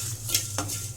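Masala spices and curry leaves fry in a pan for a spicy mutton dish, with a steady hiss and a few sharp scraping stirs of a utensil against the metal, close by over a low hum.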